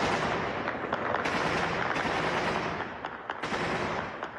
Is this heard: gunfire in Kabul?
yes